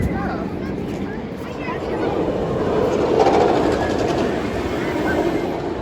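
A steady rumbling RMC roller coaster train at Six Flags Great Adventure roars past on its track, a continuous loud rolling noise with faint rattling, heard from fairly close.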